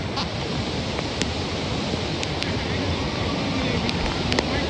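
Devkund waterfall roars during monsoon rain, filling the space with a constant, dense rush of water, with a few faint clicks on top.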